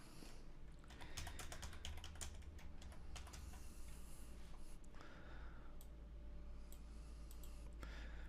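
Someone types on a computer keyboard while building a website, with quick clusters of light clicking keystrokes and short pauses between them, set over a steady low hum of room noise. Nobody talks.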